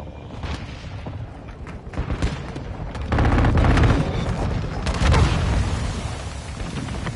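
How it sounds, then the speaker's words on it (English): Cruise missile strike in a Call of Duty: Modern Warfare II match: a dense, loud battlefield din of crackling gunfire and booms swells into two heavy, rumbling blasts mid-clip, with a lingering low roar and no voices. "Friendly cruise missile inbound."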